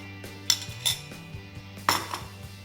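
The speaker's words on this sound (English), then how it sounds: "give everything a good stir" Wet melted ingredients are stirred into dry oat cookie mix in a bowl, giving a few sharp clinks of a spoon against the bowl spread over a quiet background.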